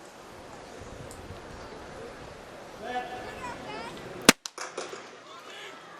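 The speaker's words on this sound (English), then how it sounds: "Let's listen to the starter's gun." A starter's pistol fires once, sharp and loud, at the start of a high school 4x100 meter relay race, followed by a few quick echoing reports over a murmuring track crowd.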